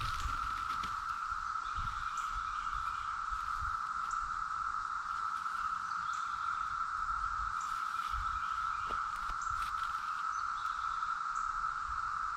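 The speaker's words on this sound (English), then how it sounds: "as the cicadas get louder again, that's my indication to start doing something" Cicadas buzz around a garden. A continuous, even, high drone holds steady the whole time, with faint low rustles and knocks underneath.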